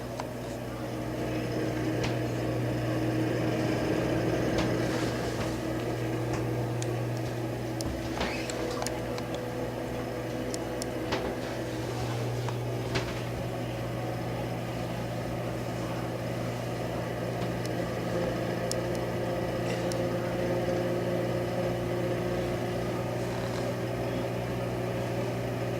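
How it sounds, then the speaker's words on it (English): Leigh bathroom exhaust fan with double lights running steadily, a constant close mechanical hum and whir with a low tonal drone and light rattly texture, unchanging throughout without any voices. "if any of you have a Leigh exhaust fan like this"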